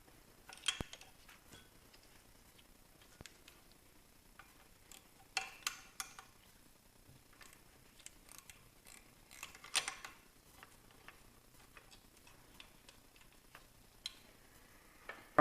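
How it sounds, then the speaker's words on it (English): Wrench loosening a 10mm bolt that holds a coolant line during transmission and turbo removal, heard as quiet, irregular metallic ticks, clicks and short rattling bursts spread across a mostly still background. "I need to take this 10mm bolt off that holds this coolant line"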